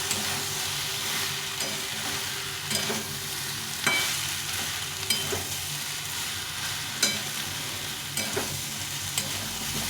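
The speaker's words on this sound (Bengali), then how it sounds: "ভালো করে মিশিয়ে নেব ফুলকপি আর সয়াবিনটা" Cauliflower and soybean chunks are stirred through a spicy masala in a hot pan, with a constant loud sizzle and periodic scraping strokes of the spoon every second or so.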